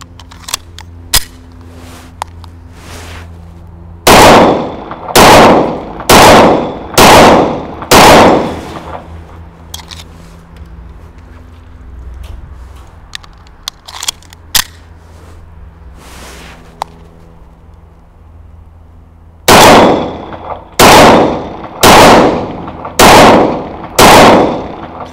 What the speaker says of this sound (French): ça fait quelques tirs que je fais avec le Mac 50